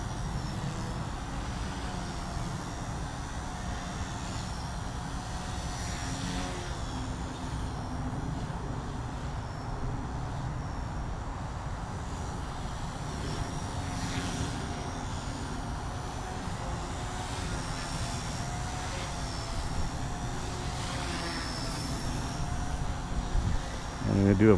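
An XK K110S collective-pitch micro RC helicopter with a 60% flat throttle curve flies nearby, its steady high motor and rotor whine holding continuously outdoors in a light breeze, with a faint swell near the end.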